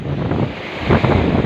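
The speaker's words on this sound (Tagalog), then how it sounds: "Lalaki ng alon." Big ocean waves, heard as a continuous roaring surge of surf mixed with heavy wind buffeting the microphone, loud and close for a brief moment.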